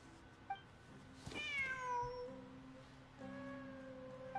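A cat meows in the video game Genshin Impact, with one long, drawn-out falling call followed by a shorter mew, heard fairly clearly over a steady game ambience.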